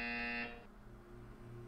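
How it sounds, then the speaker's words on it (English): A buzzer in the video game Portal 2 sounds once, a harsh steady electronic drone lasting under half a second before cutting off, leaving a faint low hum. "You will hear a buzzer."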